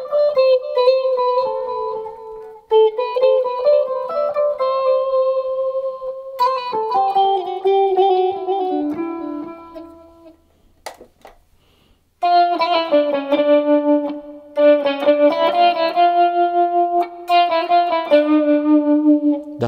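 An electric guitar runs through the tremolo effect of a Boss ME-8 multi-effects unit, playing wavering, pulsing melodic notes and phrases, with a brief near-silent pause midway.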